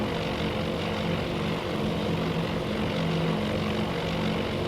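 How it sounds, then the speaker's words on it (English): Propeller aircraft engines from the Task Force Admirals naval battle game, set at the Battle of Midway, drone steadily and loudly with no break or talk. "You love the engine sounds?"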